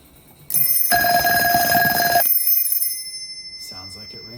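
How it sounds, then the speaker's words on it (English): An old telephone bell ringing on a line tester, a bright metallic ring that starts sharply, holds for about two seconds and then decays, followed by a brief voice. "Sounds like it rings nice and bright."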